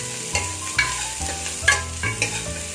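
Small shallots sautéing in a pan for a Tamil spinach kootu, a steady close sizzle broken by several sharp scraping stirs of a spoon against the metal, with no voices.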